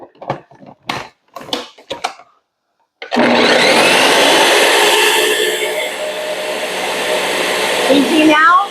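A food processor purees leftover tray vegetables into hummus, starting abruptly after a few short sounds and then running as a loud, continuous whirring grind that strains slightly toward the end.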